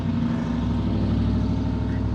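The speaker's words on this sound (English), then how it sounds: "I will literally be able to hear his truck rumbling all the way down the highway" A truck engine rumbles steadily with a low, continuous drone, loud and close, as it pulls away down a highway.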